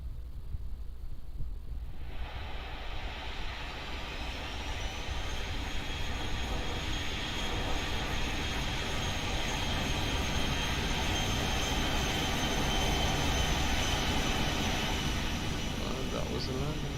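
Boeing 737-800 landing in X-Plane 11, a loud steady roar of jet engines and rushing air that rises after a quieter start and holds for the rest of the clip.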